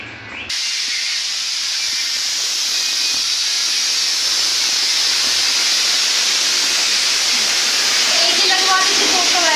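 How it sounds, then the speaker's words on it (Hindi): A pressure cooker boiling sweet potatoes releases a steady, loud hiss of escaping steam that holds for several seconds after a sudden start. "अब 2 सीटी लग गई, बंद करो"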